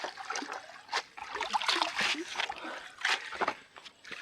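Water scooped and splashed in a home kitchen while cooking a vegetable soup, with intermittent splashes and trickles close by and faint background voices.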